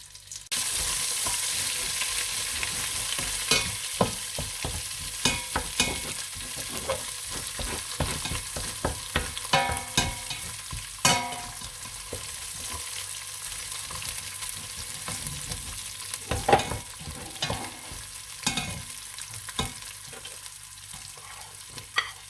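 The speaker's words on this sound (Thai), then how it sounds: "แกงเผ็ดต้องไปผัดเลยจ้ะ" Red curry paste being stir-fried in a pan for a chickpea curry: a steady, close sizzle runs throughout, broken by frequent scraping spatula strokes and sharper clacks against the pan, with no talking.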